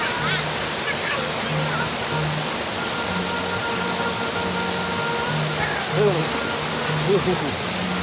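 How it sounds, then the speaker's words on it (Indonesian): A small waterfall on a hillside stream pours steadily, a constant broad rushing wash of water close by, with faint voices and a few bird calls mixed in. "kita pindah ke curug yang kecilnya karena yang di atas terlalu keras airnya"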